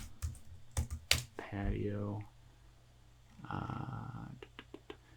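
Search terms typed on a computer keyboard: quick clusters of crisp key clicks at the start and again near the end, with a person talking in between.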